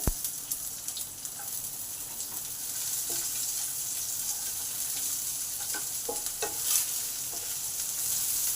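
Chopped onion hitting hot oil already holding fried garlic, a steady hiss of frying with occasional scraping and stirring clatters, close and continuous, no talking.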